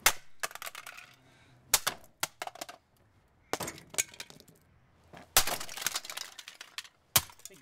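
A plastic Casdon toy Dyson DC24 vacuum being smashed apart, with sharp cracks, snaps and clattering pieces in separate bursts broken by short quiet gaps.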